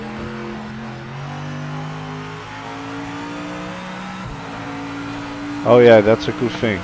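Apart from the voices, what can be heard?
Mercedes race car engine in Project Motor Racing video game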